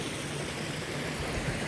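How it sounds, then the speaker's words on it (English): Steady rushing water from a small waterfall in a food forest pond, a continuous broadband wash heard close and alone. "Let's jump across the waterfall here."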